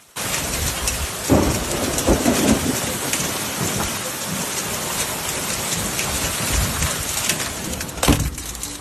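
A Tallahassee hailstorm in Cascades Park roars steadily, with dense ice hitting and bouncing off a child's plastic slide and the ground, and a few louder impacts standing out from the continuous wash.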